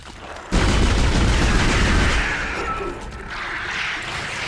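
Gunfire in the survival horror game Dead Space, a loud sustained burst of heavy shots and booms that tails off into a rumbling echo, with no talk.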